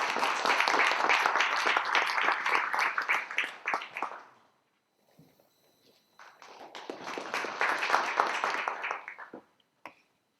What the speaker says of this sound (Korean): 큰 박수로 이사장님을 모시겠습니다